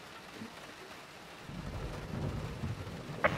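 Rain in the racing game Assetto Corsa Competizione, a soft hiss that swells after a quiet start into a fuller, rumbling wash of wet noise, with one brief sharp sound near the end.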